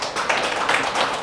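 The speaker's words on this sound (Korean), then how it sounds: "하나님께 영광의 박수를" A church congregation at a Christmas service applauds in a brief, dense burst of clapping that continues through the short moment.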